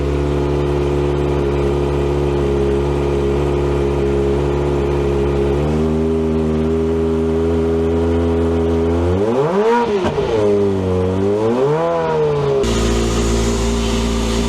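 A Kawasaki Ninja ZX4RR motorcycle engine runs on a dyno. It holds a loud, steady drone, then steps up in pitch, swoops through a couple of rising and falling revs, and settles into a higher hum.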